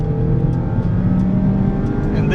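A mid-engine sports car with a Mazda-built engine revs hard after a downshift, a loud, sustained close-up engine drone with steady throttle and no pause.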